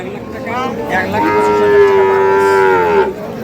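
A Sahiwal bull or other cattle lets out one long, loud, drawn-out moo at a busy rural livestock market, rising and holding before it trails off, with faint crowd murmur behind it.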